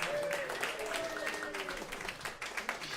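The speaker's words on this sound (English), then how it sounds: "Give them a big round of applause." Crowd applause goes on steadily under loud cheering voices at a Pride celebration event, with the clapping fairly distant and spread across the room.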